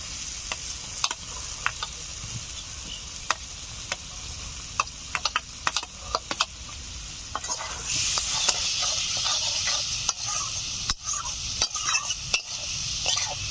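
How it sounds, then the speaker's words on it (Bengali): Fried potatoes being stirred into a cooked-down spice masala for a rohu fish curry, with constant sizzling in oil and repeated scraping and tapping of a spatula against the pan, the frying hiss swelling louder in the second half. "এখন ভেজে রাখা আলুগুলো মশলার উপর দিয়ে আরো কিছু সময় কষে নেব।"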